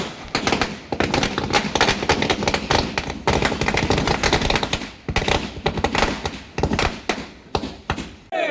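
Firecrackers bursting at a village celebration, dense rapid crackling bangs and thuds strung almost continuously, loud and close, with short gaps before further bursts.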